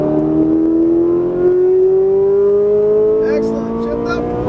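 A Ferrari 458 Italia accelerates on a race track, its engine note rising steadily and loudly over several seconds in a single long pull, with a voice briefly coming in toward the end.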